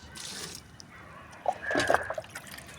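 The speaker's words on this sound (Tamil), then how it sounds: "இதுக்கு ஒரு 2 கப்பு ஊற்றி விட்டோம்." Liquid banana-flower NPK fertilizer is poured onto a plant, giving a short splashing trickle and a few drips that rise briefly and then fade.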